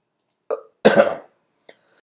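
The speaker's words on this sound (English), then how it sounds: "I was coughing there" A single throaty cough bursts out after a short lead-in breath, close and loud, followed by a small faint click in otherwise quiet surroundings.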